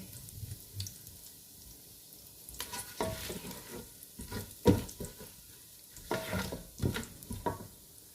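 Whole spices and lamb for shahi korma browning in a pan over moderate flame, a soft close sizzle with intermittent stirring bursts and scrapes, fairly quiet, no talk.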